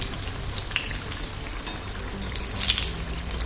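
Ridge gourd bhaji frying in shallow oil on a low flame, a steady soft sizzle with faint crackles and a brief louder burst of spatter near the end as the fritters are turned.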